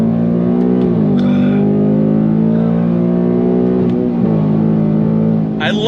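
A 2024 Ford Mustang GT with its V8 pulls hard in second gear, the engine note climbing steadily and loudly through the revs, dipping briefly around a shift, with a short burst of other noise at the end.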